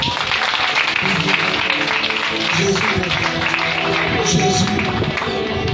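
A church congregation applauds with steady, dense clapping that fills the space. Voices and a crowd murmur carry on under and through the claps.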